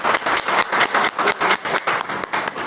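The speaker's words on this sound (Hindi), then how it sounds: "एक बार हम सभी लोग भाई जी के लिए जोर से ताली बजा के फिर से अभिनंदन अभिवादन करेंगे।" An audience claps in a dense, steady burst of applause at a spiritual gathering in a centre at Mathura Refinery Nagar, many hands close and loud, with slight pulses in rhythm and no talk over it.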